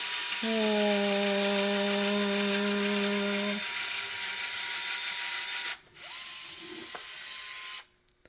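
A cordless caulk gun runs at its fastest speed, a steady motor whine for about three seconds before stopping, followed by softer mechanical noise and clicks; no talking.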